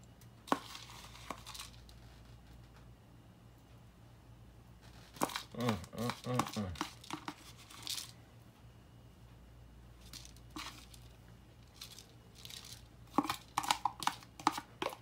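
Breadcrumb mixture sprinkled over a one-pan tuna casserole makes quiet, crinkly, scattered patters that come in short bursts, separated by near-silent gaps.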